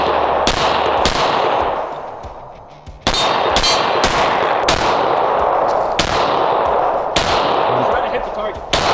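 Full-size striker-fired pistol shots at an outdoor range, about eight sharp reports spaced roughly a second apart, loud and close, each with a trailing echo, and no talk between them.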